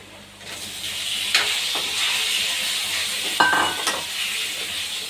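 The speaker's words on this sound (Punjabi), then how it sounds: "ਮਸਾਲੇ ਨੂੰ ਭੁੰਨਣ ਤੋਂ ਬਾਅਦ ਅਸੀਂ ਇਹਦੇ ਵਿੱਚ ਹੁਣ ਪਾ ਦਾਂਗੇ ਜੀ ਆਲੂ" Potatoes going into a kadai of roasted spices for a Punjabi winter hallo vegetable dish, giving a steady sizzle and hiss of frying, with a few sharp stirring clatters and bursts of spatter along the way.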